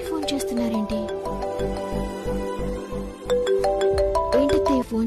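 A mobile phone ringtone plays a repeating melodic tune for an incoming call, fairly loud and close, with a brief pause partway through before the ringing resumes.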